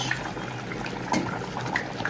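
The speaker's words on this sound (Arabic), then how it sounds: "هنحط شويه ميه كمان كده اهو" Water is poured into a pot of rice cooking on the stove, a soft, close trickle and splash heard alone at low volume for a couple of seconds.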